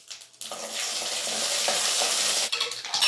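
Mustard seeds and urad dal sizzle and crackle in hot oil, a loud, steady hiss lasting a couple of seconds, with a few clinks of stirring at the end.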